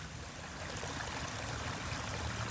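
Water from a backyard turtle pond waterfall pours and splashes into the pond in a steady, even rush, moderately close with no voices over it.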